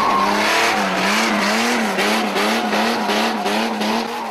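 A Mitsubishi Lancer Evolution drifts with a loud, sustained tire squeal that wavers in pitch, engine droning underneath, close and continuous.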